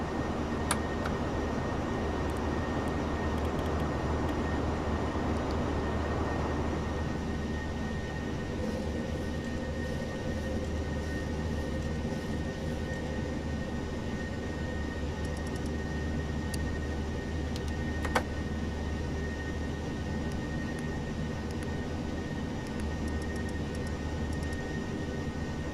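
Boeing 737-800 jet climbing after takeoff in a flight simulator game, a steady, loud engine roar that holds constant throughout with a faint tonal whine, no talking.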